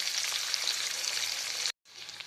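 Two dried red chillies fry in oil left from frying fish, giving a steady, close, bright sizzle with a brief cut near the end before the hiss resumes.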